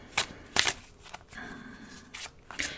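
A deck of oracle cards is shuffled up close, with several quick riffling bursts and soft slides between them, fairly quiet and with no talking.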